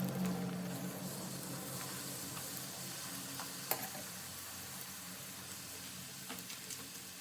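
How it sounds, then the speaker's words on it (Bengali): Puris for fuchka frying in hot oil, a steady, quiet, even sizzle throughout with a single faint clink partway, heard close with no voices. "তারপরে ওই গরম তেলে একটু কড়া করে ভেজে নেব, অর্থাৎ লাল লাল করে ভেজে তুলে নেব।"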